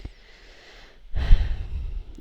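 A cartoon character gives a faint sniff, then a close, loud nose-blow with a breathy, rough burst lasting under a second, and no talking.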